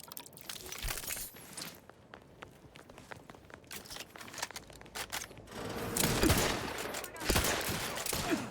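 A chargeable gun fired in a sci-fi video game, giving a dense, crackling run of rapid shots and impacts, swelling louder toward the end, fairly faint overall.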